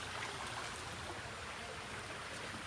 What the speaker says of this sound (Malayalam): ഇത് ഫ്ലഡിനുള്ള ഒഴുക്കാണ്